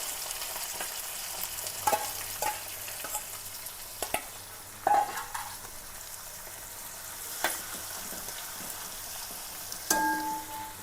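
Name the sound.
chopped onion frying with curry leaves in pan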